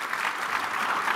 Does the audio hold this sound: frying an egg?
no